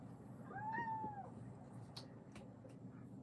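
An indoor cat lets out a single drawn-out meow near the start, moderately close and fairly quiet, followed by faint room noise and a few small clicks.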